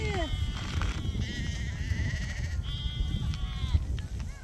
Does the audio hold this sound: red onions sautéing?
no